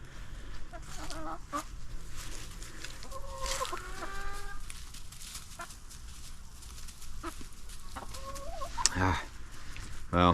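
Hens and baby chicks cluck and peep close by in a farmyard, with scattered calls and soft chirps over a low background rumble.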